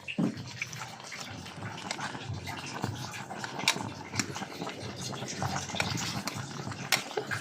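Water bubbles at a rolling boil in a pot, a steady churning gurgle close by, with voices talking faintly in the background.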